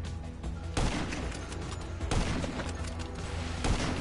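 Gunfire in a PS4 video game, heard as three loud, sharp shots at roughly even intervals over a continuous rumbling background.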